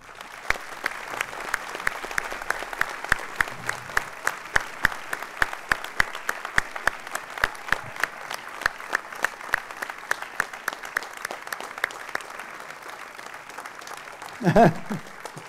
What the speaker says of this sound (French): Je vais vous demander de les applaudir.